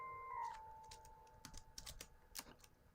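A computer keyboard gives faint, scattered keystroke clicks in short irregular bursts after a brief steady tone fades away.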